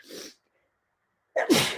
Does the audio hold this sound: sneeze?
yes